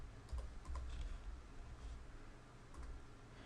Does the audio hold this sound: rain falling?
no